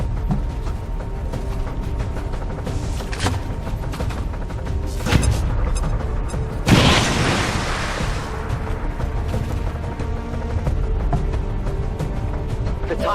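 A frag grenade in a video game explodes midway in one sharp, heavy blast with a short rumbling tail, set against loud, continuous gunfire and mechanical clatter throughout.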